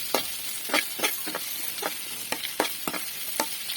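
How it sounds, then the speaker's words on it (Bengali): Sliced spiny gourd sizzles in a hot pan while a utensil scrapes and stirs in quick, repeated strokes. "হালকাভাবেই ভেজে নেব"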